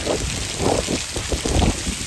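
Snowy rain falls steadily, making a dense, close hiss of drops spattering on surfaces, continuous and even without voices.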